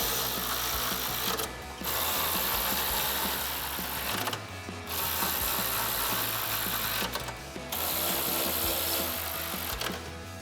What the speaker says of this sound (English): Take a 10 millimeter socket and tighten those down.